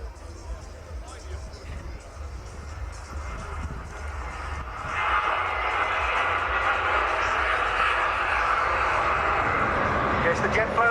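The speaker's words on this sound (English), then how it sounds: "by the Boeing 757-200 of the Royal New Zealand Air Force." Royal New Zealand Air Force Boeing 757-200 jet passing at an airshow, a distant engine roar that swells into a broad loud rush, with crowd babble and announcer talk underneath.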